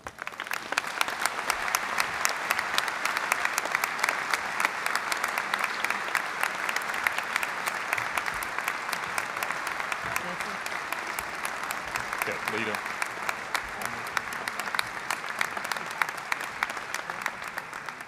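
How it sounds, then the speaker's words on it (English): Sustained audience applause at a university honorary degree ceremony, a dense, even wash of clapping from a large crowd in a hall that continues without pause. "Join me in a big round of applause again for Leta Powell Drake."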